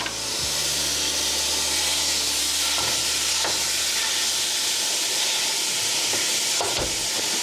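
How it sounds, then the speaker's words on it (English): Ground meat browns in a hot pan over medium-high heat for a 1970s tamale pie, a loud, steady sizzling hiss filling the whole stretch with a few faint scrapes and stirs. "We're gonna brown this meat on medium high."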